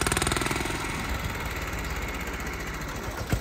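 A small tractor engine chugs loudly and steadily at close range with a fast, knocking rhythm while the tractor is being turned, running alone with no talk.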